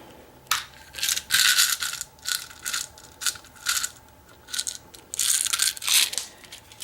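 Serrated pins being inserted into a clear plastic training lock, a series of sharp small plastic clicks and rattles in irregular bursts, close and fairly quiet.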